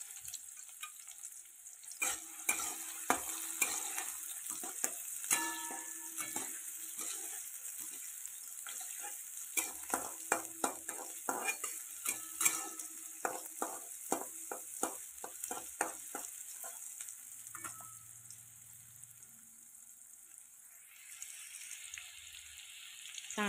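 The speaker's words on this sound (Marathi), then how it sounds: "चांगला भाजू द्यायचा कांदा एकदम लालगा असा मस्त पैकी" Chopped onion fries in a pan while a home cook prepares a Maharashtrian fish curry, a steady close sizzle broken by scraping stirs and clinks of a spatula, with water running faintly near the end.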